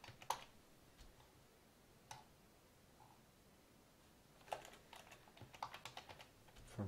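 Quiet, nearby keystrokes on a computer keyboard: a few isolated taps, then a faster burst of clicky typing near the end.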